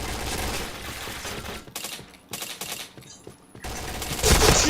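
Rapid automatic gunfire from the online shooter PointBlank bursts in loud, dense volleys, breaks off into short pauses, then resumes heavier at the end.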